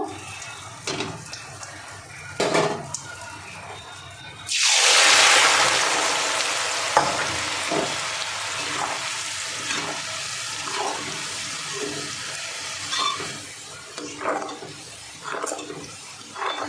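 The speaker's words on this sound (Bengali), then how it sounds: "দিয়ে আমি আলুগুলো ভেজে নেব।" Shredded potatoes for jhuri aloo bhaja drop into hot salted oil with a sudden loud hissing surge that settles into a long, steady frying sizzle, broken by occasional soft stirring knocks; no speech.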